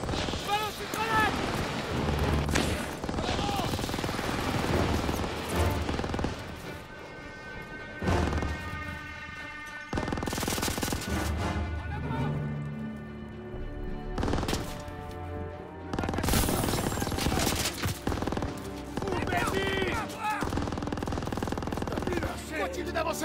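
Video game battle at Aachen in October 1944, with bursts of machine gun fire and gunshots that come and go in loud volleys between quieter gaps, while voices shout over the combat.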